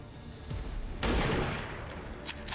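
A gunshot in the XCOM 2 tactical game, a sudden loud burst of fire over a low background hum. Fainter crackling shots follow soon after.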